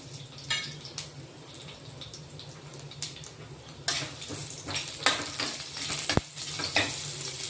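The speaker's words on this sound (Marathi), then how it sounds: "तेल गरम झालेलं आहे, जिरं टाकून घेऊ. थोडे बारीक कट केलेला लसूण" Cumin seeds and finely chopped garlic sizzle in hot oil while making a Maharashtrian matki bhaji with kala masala: a steady close frying hiss, broken by scattered crackles and spoon scrapes, with one sharp tap near the end and no talking.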